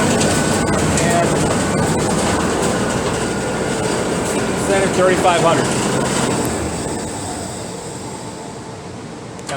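A vertical bandsaw runs continuously with a steady broadband whir and hum, a loud machine drone that holds throughout while someone speaks briefly over it.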